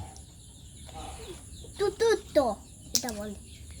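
A few short calls from week-old chicks being given Ranikhet disease vaccine, clucks and cheeps, come in a brief cluster over a quiet background with faint voices.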